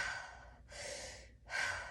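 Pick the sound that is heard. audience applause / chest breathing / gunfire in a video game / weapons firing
chest breathing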